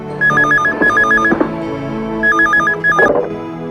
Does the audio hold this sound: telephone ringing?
yes